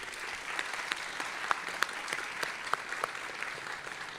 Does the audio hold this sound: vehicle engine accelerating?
no